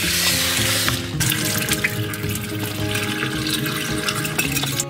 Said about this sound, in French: J'ai toujours l'habitude de laver mon riz avant de faire cuire.